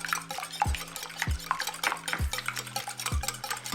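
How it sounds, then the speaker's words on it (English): Raw eggs are whisked in a bowl with rhythmic, fairly quick clinking strokes of the utensil against the bowl, close and clear with no talking. "you're gonna wanna whisk it some more"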